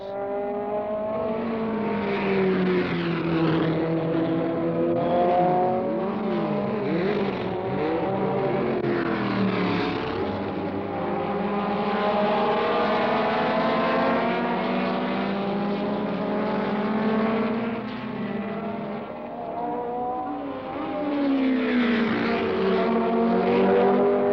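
Race cars at the 1971 American Road Racing Championship in Georgia, several engines roaring and sweeping past with rising and falling pitch, loud and continuous over about twenty-four seconds.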